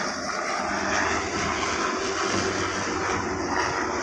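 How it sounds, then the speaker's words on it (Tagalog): A helicopter flies overhead at a coastal road construction site, a steady loud engine and rotor roar that holds continuous for the whole stretch with no voices. "Ayan, may helicopter sa taas."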